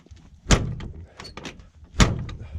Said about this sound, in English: the spring's busted on the door, so it doesn't have that intermediate catch